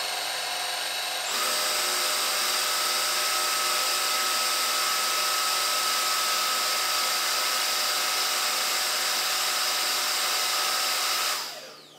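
A Jimmy HW8 wet and dry stick vacuum running its self-cleaning cycle: a loud, steady high motor whine that kicks up after a second, holds evenly, then winds down at the end.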